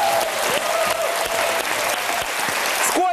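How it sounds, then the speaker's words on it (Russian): A studio audience on a Russian evening talk show claps loudly and steadily, unbroken from start to finish, with a brief voice coming in right at the end. "Мне кажется, мы должны просто аплодировать вам"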